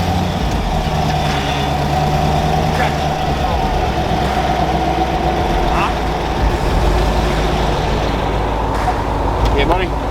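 A truck engine revving hard during a burnout with a brake fader, a loud sustained low roar with rising and falling pitch, voices audible over it.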